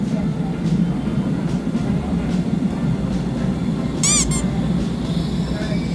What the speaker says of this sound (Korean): 차 아니고 지하철이야.